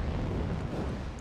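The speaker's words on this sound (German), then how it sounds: "Ich höre hier nur Explosionen" Dense, continuous rumbling blasts of explosions in the video game Star Citizen, loud and steady throughout with no clear gaps between them.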